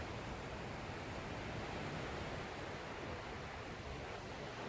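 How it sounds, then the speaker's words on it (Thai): Wind blowing steadily outdoors in a rustic setting, a constant broad rushing roar with no breaks, fairly faint and heard alone. "เพิ่งฟังเสียงลมพัด"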